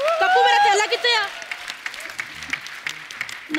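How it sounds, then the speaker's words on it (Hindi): A studio audience at The Kapil Sharma Show breaks into applause that follows a brief spoken line and then carries on as dense, close clapping to the end. "एक बार दादियों के लिए तालियां बजा दो।"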